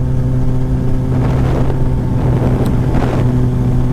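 A 300hp turbocharged Suzuki Busa motorcycle accelerates hard in second gear: a loud, steady engine roar heavily buffeted by wind noise throughout.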